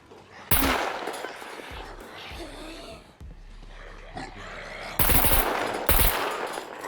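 Bursts of RPK machine gun fire in the survival video game SCUM, loud rapid automatic volleys separated by quieter gaps, the last two bursts closely spaced.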